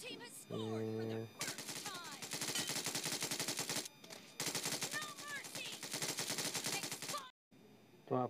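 Gunfire in the PUBG/BGMI video game: loud, rapid automatic bursts fill most of the clip, broken by short pauses, with game effects and a little talk mixed in.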